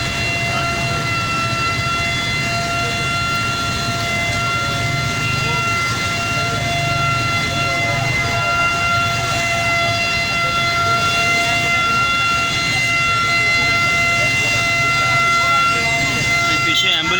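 An ambulance siren holds steady tones behind traffic noise in a busy Rawalpindi commercial market during rush hour, unable to get through. The sound is continuous, moderately loud and unchanging throughout, with a low rumble of traffic underneath.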